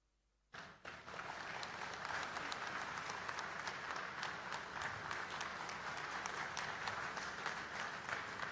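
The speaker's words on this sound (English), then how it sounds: "May we acknowledge the invaluable contribution of all the participating organizations with a warm round of applause" A crowd at a police certificate and thanksgiving ceremony bursts into sustained applause after a brief quiet moment, steady and dense clapping continuing loudly to the end.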